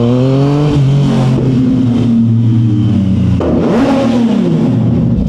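A loud, close car exhaust revs hard, its deep tone rising and falling twice with a throaty roar.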